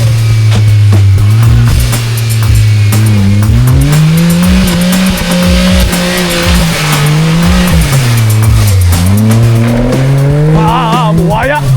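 A Suzuki Jimny is driven hard through a river and mud, its engine loud and close, revving and bogging in long rising and falling sweeps as people talk over it.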